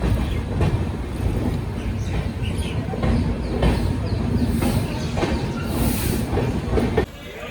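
A long-distance superfast express train rolling through a railway junction, steady loud rumble with rhythmic clickety-clack of wheels over rail joints and faint hissing, continuous until a sudden drop near the end.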